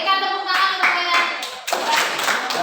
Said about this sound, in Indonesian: berikan tepuk tangan untuk kalian